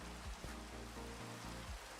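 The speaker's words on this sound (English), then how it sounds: "No, it rains on us." Steady rain falls in a Minecraft game world, a continuous even hiss of drops on the ground, moderately loud and unbroken, with no talking.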